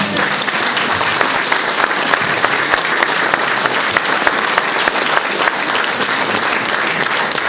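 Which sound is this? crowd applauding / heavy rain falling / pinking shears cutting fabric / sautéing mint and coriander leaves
crowd applauding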